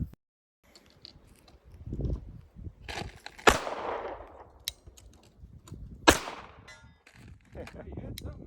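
Rifle fire at an outdoor shooting session: two sharp, loud reports several seconds apart stand out over fainter pops and handling noise, with voices talking in between.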